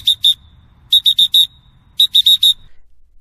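Sets of short, shrill referee whistle blasts mark the end of a roller derby jam: a clipped opening set, then two crisp groups of four rapid blasts separated by brief pauses, loud and alone.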